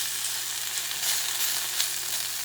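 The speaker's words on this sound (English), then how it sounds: "You're cooking it without grease, see? Without oil or anything." Bison bacon sizzles dry in a cast iron pan with no grease or oil, a steady, close crackling hiss that holds at an even level throughout.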